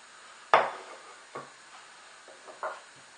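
An onion is chopped on a board: a few separate knife strikes land at uneven intervals, one sharper than the rest, quiet and close against near silence.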